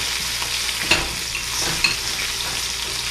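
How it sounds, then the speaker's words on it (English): Steady sizzle of a pan with butter and steak as a handful of rosemary is thrown in, two sharp crackling bursts near one and two seconds over the continuous frying hiss, close and fairly loud. "I'm going to take all my rosemary that I was playing with and just throw it in the pan."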